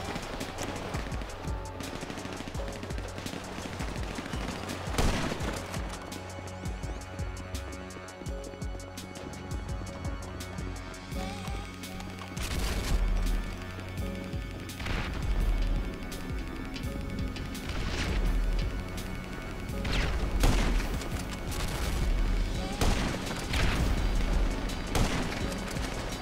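Rapid gunfire bursts and heavy impacts from a GTA Online deathmatch, with repeated shots and crashes that grow denser and louder in the second half, set over a constant game background bed.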